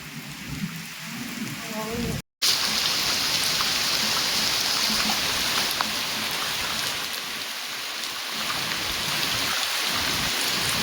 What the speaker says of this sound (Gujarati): જો વરસાદ વધી ગયો છે